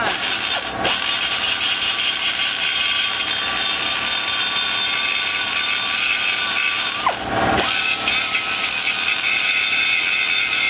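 Power tool grinding a Chevy 334 stroker intake manifold, a steady high-pitched whine with a continuous abrasive hiss, loud and close, briefly dropping in pitch twice as the tool bogs or lifts off the metal.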